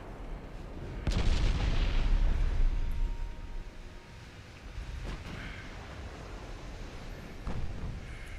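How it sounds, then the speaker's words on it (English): Secondary guns on warships open fire in a naval battle game, a sharp boom followed by a rumbling roll, then fainter distant shots trailing off over steady background battle noise. "I probably ought to start firing secondary guns at just like into the cluster of ships"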